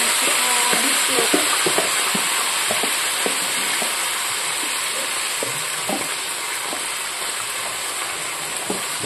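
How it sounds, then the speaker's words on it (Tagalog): Potatoes fry in a pan with a loud, steady sizzle and crackle, broken by intermittent scraping and stirring clicks close up, with no talking. "Isain ko muna itong patatas bago yung hotdog."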